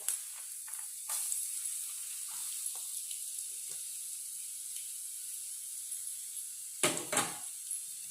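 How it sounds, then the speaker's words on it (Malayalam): Spices and ingredients dropped into hot sesame oil for a pickle, a soft sizzle and hiss under a few light stirring scrapes, ending in two sharper clinks near the end. "നല്ലെണ്ണ ഒന്ന് ചൂടായി വരുമ്പോൾ നമുക്ക് ഈ സാധനങ്ങളൊക്കെ ഇട്ട് വഴറ്റിയെടുക്കാനുള്ളതാണ്"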